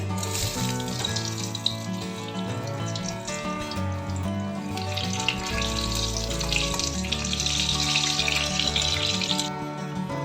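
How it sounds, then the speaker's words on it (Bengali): Potatoes frying in a pan for a spiced vegetable biryani, a steady hissing sizzle that runs throughout under background music. "আলুটা ভাজা হচ্ছে"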